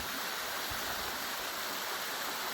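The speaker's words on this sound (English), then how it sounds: "this rather narrow and greasy waterfall" A narrow, greasy waterfall in Easedale Gill in the Lake District, heard close as a steady, dense rush of falling water with no break.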